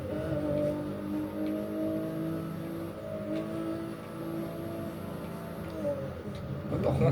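Nissan Skyline GT-R R34 engine in a racing video game, driving on snow: a steady, loud engine drone with layered harmonics that holds nearly constant, rising slightly near the end.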